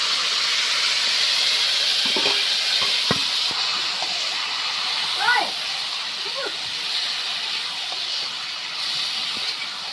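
Meat sautéing with garam masala for home-style biryani gives off a steady, hissing sizzle, with a voice faintly talking over it in places.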